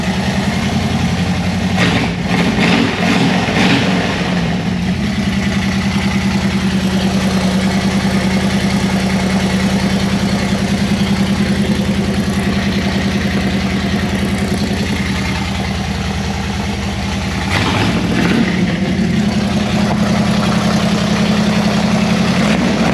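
A 1932 Ford car engine idles steadily and close by, a continuous low rumble with a slight uneven throb that stays at an even level throughout, with no talking.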